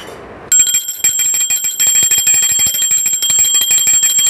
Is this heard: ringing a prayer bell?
yes